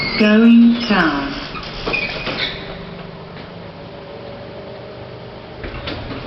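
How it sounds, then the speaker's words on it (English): Doors of an old, modernised hospital lift slide shut with a brief mechanical rumble and clunk, followed by a steady low hum, while a synthesized voice announces the lift's status. "Doors closing."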